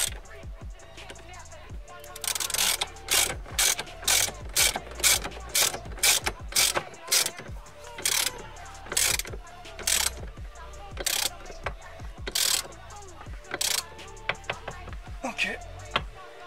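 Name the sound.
tightening the steering wheel screw on a Mercedes W124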